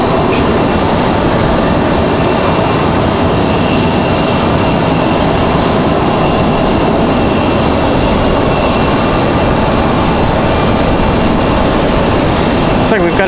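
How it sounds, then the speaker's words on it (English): An American Eagle Embraer E175 regional jet taxis toward the gate at Raleigh-Durham International Airport, giving off a steady, continuous broadband engine roar that stays fairly loud and even throughout. "we do have the American Eagle E175 ready to roll to the gate over here"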